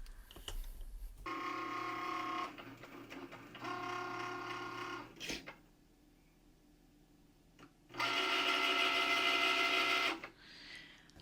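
A Cricut cutting machine runs a cut, its motor whirring in steady mechanical bursts separated by short pauses and a click, then a louder final stretch, close and clear with no talking.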